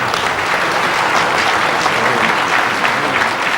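Delegates at the United Nations applaud after Dominique de Villepin's speech: dense, sustained applause from a large hall, steady and loud with no break.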